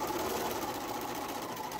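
A sewing machine runs steadily while stitching quilt pieces, giving a quiet, even mechanical whir heard close up for a short stretch.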